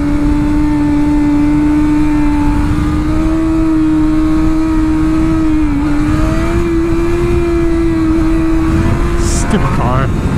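A car engine holds a loud, steady high-pitched revving drone through a wheelie attempt, the pitch wavering slightly before a brief shift near the end.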